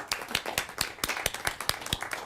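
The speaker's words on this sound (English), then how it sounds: "One more clap." A small audience at a city council meeting gives a brief round of clapping, a dense, close patter of claps lasting a couple of seconds.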